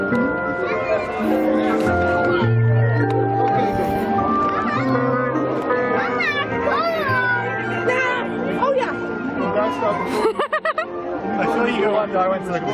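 Cheshire Cat character meowing at Disneyland Paris, repeated cat-like calls over bright park music and crowd chatter, with people talking nearby.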